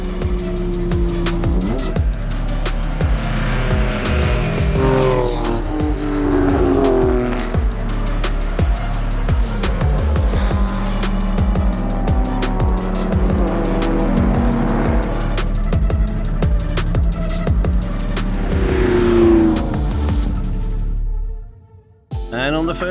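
Classic race cars built across several production years compete at the Prenois circuit during the Tour Auto, engines loud and continuous with repeated revving passes and tyre noise, under crowd and commentary voices, ending in a sudden drop.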